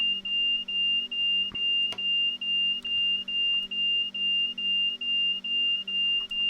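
Steady repeating electronic beeps from an alarm in a Train Sim World 5 cab on the West Coast Main Line, a clear pulsing tone sounding roughly every third of a second over a low cab hum, with no talking.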